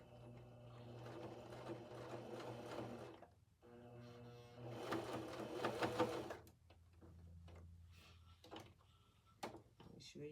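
A sewing machine stitches fabric in two sustained runs of rapid, even whirring, quiet and close by, then stops; someone speaks softly between and over the stitching.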